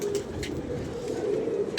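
Pigeons coo close by outdoors on a windy day, soft low throaty calls repeating under a faint breezy background.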